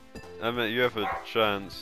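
A pet dog lets out a few short, close barks and whining yips in a room, mixed in with a person talking over a video game session.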